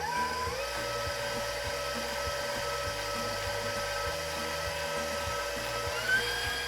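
An electric mixer whirs at a high, steady pitch as it creams butter and sugar for pumpkin cookies, with a faint rhythmic knocking underneath; close and continuous, with no talking.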